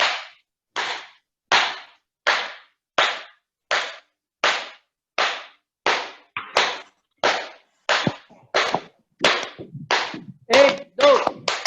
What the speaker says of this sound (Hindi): पूरे जोश के साथ में ताली वादन करेंगे